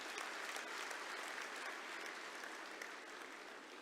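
Steady, even applause rolls through a large audience at a business conclave in Odisha, thick and continuous, with no voices above it.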